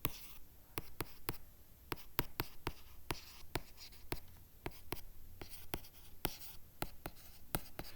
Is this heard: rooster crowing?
no